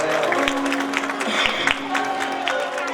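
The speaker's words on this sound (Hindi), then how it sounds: "जोरदार इनके लिए तालियों से इनका स्वागत करेंगे।" Audience at a Shrimad Bhagavat Katha gathering in Jabalpur applauds to welcome visiting devotees, a steady wash of many hands clapping with a sustained voice and music tone running beneath.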